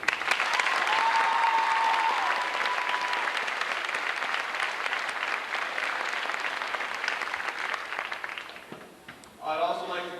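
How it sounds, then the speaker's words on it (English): Sustained applause from a graduation ceremony audience honoring teachers, steady and full for about nine seconds, then fading as a voice begins speaking near the end. "Let's have a round of applause for these teachers."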